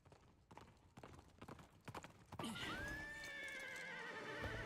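Horses neigh in a Fire Emblem Engage cutscene, a loud drawn-out whinny rising after a stretch of hoof clip-clops and scattered clatter, close and clear with no talk over it.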